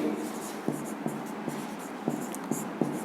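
A pen scratches on paper in a quiet room, with faint soft strokes and several light taps as words and numbers are written out.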